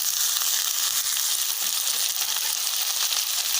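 Chopped ginger, garlic, onion and tomato frying in oil for palak paneer, a loud, even, continuous sizzle with no voices.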